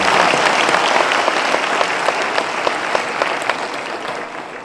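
A round of applause from an audience at a podcast-style talk event, dense clapping from many people that starts loud and tapers slightly toward the end, with no speech over it.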